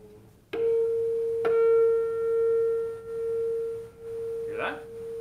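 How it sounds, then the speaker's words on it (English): A sustained pure tone from two close frequencies starts abruptly and swells and fades in slow, regular beats, a warbling wobble in loudness. "You hear the warbling? That's from beats."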